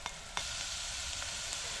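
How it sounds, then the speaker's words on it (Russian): Grated carrot frying with onion in a pan on a gas stove, a steady soft sizzle that runs throughout with a few brief clinks or stirring taps. "Пока морковка жарится"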